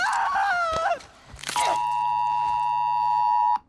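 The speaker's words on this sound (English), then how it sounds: "I wondered what that noise was. It's my security alert." A phone emergency alert test sounds as a loud, sustained electronic tone that holds for about two seconds and then cuts off, following a brief burst of other game noise.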